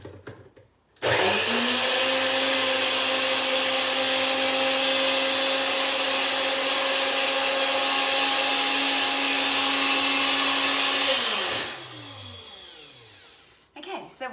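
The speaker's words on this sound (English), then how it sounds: "once you've popped those things in your blender, you're just going to quickly blend that up" A kitchen blender whirs loudly and steadily for about ten seconds, blending chia seeds and blueberries into a pudding, then spins down and stops.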